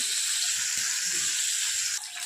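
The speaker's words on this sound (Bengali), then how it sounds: "এবার মাছগুলো ভেজে নেব" Fish frying in hot oil while a mustard and poppy seed fish dish is cooked, a steady dense sizzle, close and even, that drops slightly at the very end.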